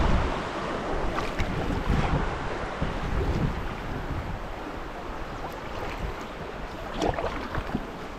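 Small class I whitewater riffles on the North Fork of the Crow River in Minnesota, heard while paddling as continuous rushing, splashing water with wind buffeting the microphone and occasional paddle splashes.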